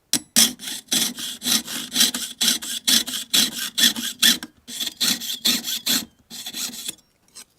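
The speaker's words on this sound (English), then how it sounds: "it also sounds horrible when you're piercing out titanium" A jeweler's saw piercing through titanium sheet gives repeated harsh, rasping strokes in a steady back-and-forth rhythm, loud and close, with no talking, before a brief pause at the end.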